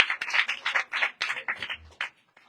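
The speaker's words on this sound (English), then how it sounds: "Clap loudly." An audience claps together at a Hindu devotional Hari-katha talk in Gujarat, India, with a steady run of quick, close claps that fades out near the end.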